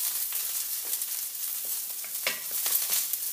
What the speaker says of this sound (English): just let it sizzle there for just a moment